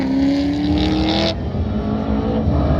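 Race truck on an autocross course, its engine loud and close, revving and accelerating with a falling pitch as it powers past, then a steady drone.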